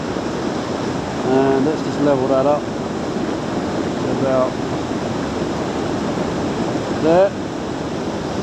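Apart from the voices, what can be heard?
waterfall water rushing nearby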